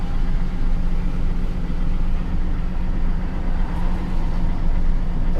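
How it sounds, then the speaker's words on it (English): Under the hood of a 2000 GMC Sierra pickup, the engine drones in a loud, continuous idle with a steady low hum and no pauses or speech. "You also notice the nauseating engine noise"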